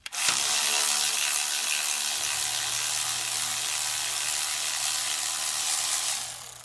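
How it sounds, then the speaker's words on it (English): Steady mechanical ratcheting from a hand ratchet loosening valve cover bolts on a Ford 6.0 Powerstroke diesel engine, continuous and close for several seconds. "We'll get all the valve cover bolts except for the rear one. So let's go ahead and pull these off."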